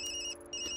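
Electronic phone ringtone in the video game Tokyo Dark, a steady tonal ring that briefly dips mid-clip before resuming, close and clear with no talk.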